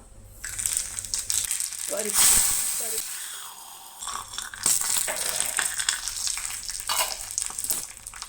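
Mustard seeds sizzle and pop in hot oil for a tempering, with a steady frying hiss and a few crackles and clinks nearby.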